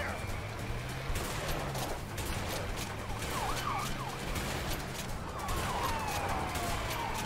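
Shotgun blasts fire in rapid, sustained succession during the video game A Way Out, dense and loud, mixed with a wailing siren and vehicle noise in the background.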